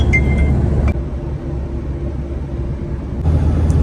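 Car driving on the road toward Lahore, heard from inside the cabin as a low steady rumble of engine and tyres with some higher rattles at the start and end.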